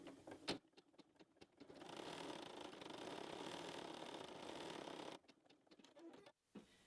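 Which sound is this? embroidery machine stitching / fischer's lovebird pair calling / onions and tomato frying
embroidery machine stitching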